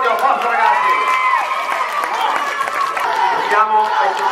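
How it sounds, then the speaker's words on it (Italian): Crowd applause and cheering at a first-year middle school athletics meet, honoring the podium finishers; steady, dense clapping and shouting of children throughout, with voices mixed into the din. "un bel applauso a questo podio"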